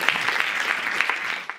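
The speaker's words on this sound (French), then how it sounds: "tonnerre d'applaudissements pour Pascal Boniface." An audience applauds a talk by Pascal Boniface on the geopolitics of sport, giving a brief burst of dense, moderately loud clapping that holds steady and then begins to thin at the end.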